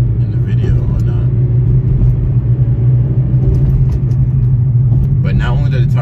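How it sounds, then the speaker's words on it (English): Loud tire roar from a Honda Civic Si on the road, a steady low rumble with engine hum throughout, heard from inside the car with a person talking over it. "these tires are super loud"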